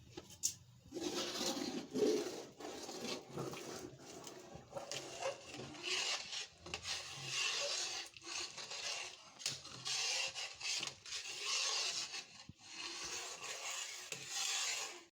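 A spoon scrapes and stirs continuously through rice kheer in a cooking pot, a soft, steady rubbing and swishing that carries on without pause.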